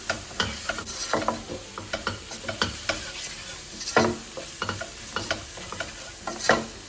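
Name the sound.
stirring chicken with turmeric and salt in pan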